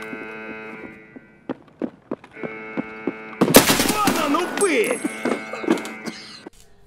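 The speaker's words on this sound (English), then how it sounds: "They're trying to shoot through the wall." Gunfire in the video game Escape From Tarkov, shots fired through a wall: a dense burst of loud, rapid gunshots mid-clip, preceded by sparse sharp cracks, with a player talking throughout.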